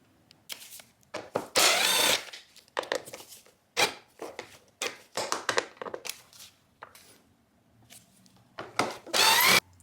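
A power screw gun loosens three screws on a furnace filter box access panel, heard as several loud, whirring drill bursts separated by short pauses and clicks, close by and alone.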